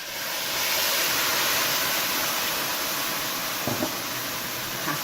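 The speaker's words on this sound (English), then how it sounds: "So I'll first throw in 1 cup of milk." Full-cream milk pours into a cooking pot on the stove in a steady, fairly loud rushing stream that runs unbroken for the whole stretch, with no voices.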